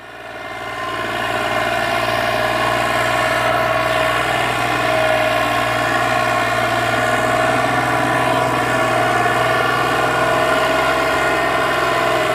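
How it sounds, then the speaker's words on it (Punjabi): A steady, loud John Deere tractor engine drones on without a break, its low rumble and layered harmonics holding constant throughout, with no voices present. "ਪ੍ਰੀਤ ਓਏ ਆ ਦੋਨਾਂ ਟਰੈਕਟਰਾਂ 'ਚ ਕੋਈ ਫਰਕ ਨਹੀਂ ਲੱਗਦਾ"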